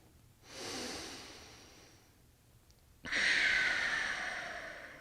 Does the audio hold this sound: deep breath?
yes